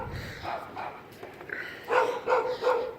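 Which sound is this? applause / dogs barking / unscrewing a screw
dogs barking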